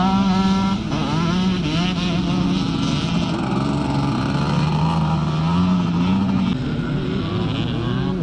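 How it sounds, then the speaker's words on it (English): A 250 Honda Elsinore leads a classic revival scramble race at Kendal in 2019, running beside the M6 motorway. Its engine roars loud and close without a break, the pitch rising and falling as the rider works the throttle. "it's number 224, Andy Hinchcliffe on that little 250 Honda Elsinore."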